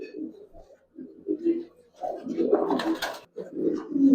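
Soft, low pigeon coos repeat in short phrases, fairly close, with a brief louder flutter or shuffle midway; old-line Giribaz and Palla pigeons.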